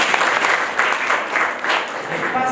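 Students clapping in a classroom: a short burst of lively group clapping, loud and close, with a few voices faintly mixed in.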